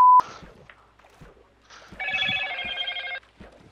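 Phone ringtone during a Minecraft gaming session, heard as a bright warbling electronic trill that repeats for about a second, preceded by short beeps and game clicks, fairly close and with no talking over it.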